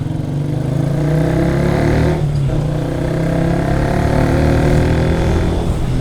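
Close engine drone of a Bajaj Rouser NS125 FI motorcycle being ridden and braked hard, a steady loud hum with a brief dip in the middle, no talk.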